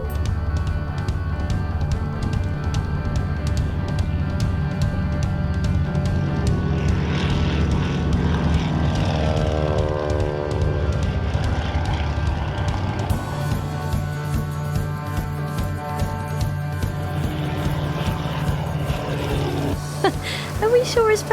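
A propeller aircraft engine roars steadily throughout as the plane takes off, a loud close droning hum with rising and falling tonal whine, with a person talking over it.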